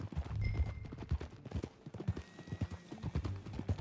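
Steady clip-clop of horse hooves in Red Dead Redemption 2, a rhythmic trotting pattern at close range, fairly quiet, with a brief whinny-like tone early on.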